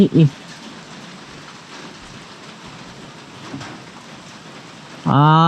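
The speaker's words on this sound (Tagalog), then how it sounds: "Aba, pagkalakas naman po ng ulan" Heavy rain pours down in a steady, dense hiss, with a brief voice at the start and another voice breaking in at the very end.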